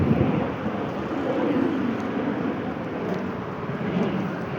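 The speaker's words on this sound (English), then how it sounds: "You can hear that noise. That is an airplane." An airplane flying overhead above a park, a continuous broad distant engine rumble that holds steady throughout.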